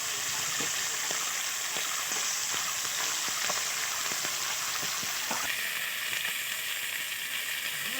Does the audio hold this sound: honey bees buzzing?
no